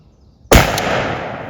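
A single loud shotgun blast fired at a wild turkey gobbler while hunting on public land in South Carolina, close and sudden, with a long rolling echo after it.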